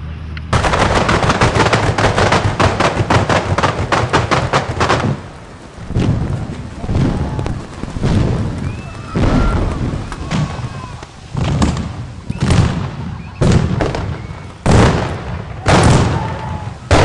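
Explosive charges fired on cue for a Sony Bravia paint commercial shoot: a sustained barrage of loud, rapid blasts for about five seconds, then a string of separate booming bursts with rumbling pauses between them.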